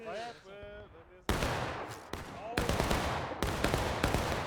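Gunfire rings out in the Civil War-era shooter War of Rights during a fight at Bolivar Heights. Several loud, sharp musket volleys crack in sequence with echoing tails, some close together, and a voice speaks briefly at the start.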